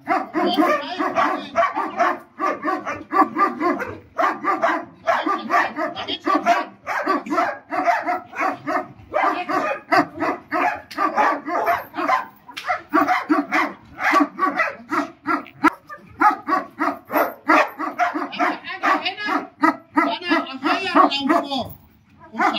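A dog barks repeatedly and excitedly up close, with whimpers and yips mixed in, barking almost continuously with brief pauses.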